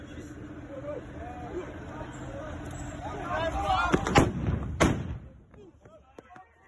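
Stun grenades thrown by police at bystanders during a 2020 protest in Senekal, South Africa, going off as two sharp, loud bangs close together amid a restless crowd murmur and outdoor noise.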